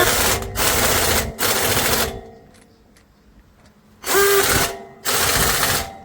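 An impact wrench rattles in loud, rapid bursts as it drives axle bolts on a truck, two long runs, a quiet pause with faint clinks, then two more bursts, close and without talk.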